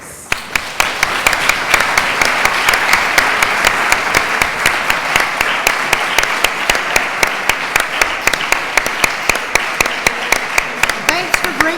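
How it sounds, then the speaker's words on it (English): An audience applauds at the end of an academic talk with loud, sustained clapping that lasts the whole stretch, its sharp individual claps landing in a fairly regular rhythm. "please join me in a round of applause"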